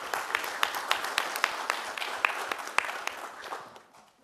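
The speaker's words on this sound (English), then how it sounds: "Can we give them another big round of applause?" Scattered clapping from a modest group at a commission meeting, a fairly faint round of applause with distinct individual claps that fades out over about four seconds.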